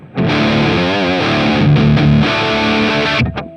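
A heavily distorted electric guitar through a Diezel VH4 amp model rings out a sustained chord with a little vibrato bend, loud and alone for about three seconds before cutting off.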